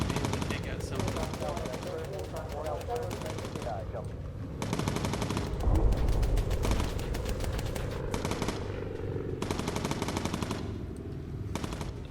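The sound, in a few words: bomber machine gun firing at fighters in Bomber Crew video game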